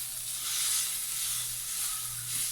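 Garlic longganisa sausages fry in a pan with a steady, close sizzle and crackle that holds without a break and has no talk over it.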